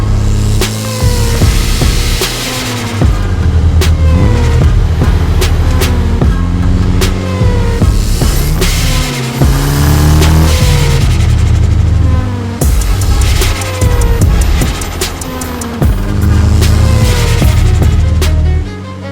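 A 1998 Nissan Silvia S14 widebody car runs loudly and close by, its engine note rising and falling through several revs over a steady throbbing drone.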